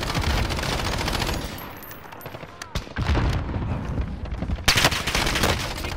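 Assault rifle fire in a tactical shooter game, with bursts of loud automatic shots crackling over a busy battle backdrop and a sharp burst near the end; a voice talks over parts of it.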